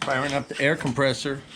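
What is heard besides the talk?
None of the usual background noises is heard.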